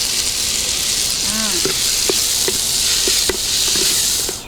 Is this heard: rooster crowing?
no